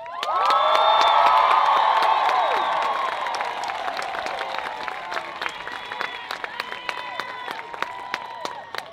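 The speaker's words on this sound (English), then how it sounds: "let's scream and shout for our graduates before we get started" A graduation crowd of students and families at a high school ceremony screams, whoops and cheers loudly, the roar peaking early then easing into sustained cheering with scattered claps and shouts.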